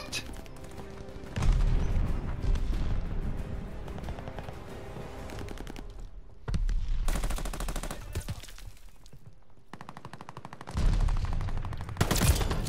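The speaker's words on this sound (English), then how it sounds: "Tossing grenade." Call of Duty Vanguard firefight with sustained automatic gunfire and heavy bursts, several loud broadband blasts around a grenade toss, dense and close.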